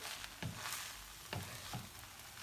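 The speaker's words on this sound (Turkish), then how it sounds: "Evet, karıştırıyoruz." Rice filling for stuffed vine leaves stirred in a pot, with a steady low sizzle and a few soft scraping stirs spaced through, close and fairly quiet.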